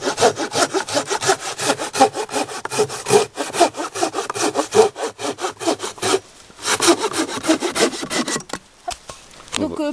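A Fiskars SW75 folding hand saw cuts through wood in fast, steady back-and-forth strokes, loud and close, pausing briefly near the end.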